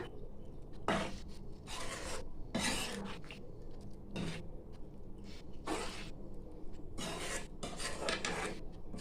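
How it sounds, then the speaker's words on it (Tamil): A spoon works green peas into mashed potato gravy in a cooking pot, making repeated scraping, rasping strokes against the pan at a steady, close rhythm, with no talking. "பட்டாணியை சேர்த்துக்கலாங்க. நல்லா கலந்து விட்டுக்கலாம்."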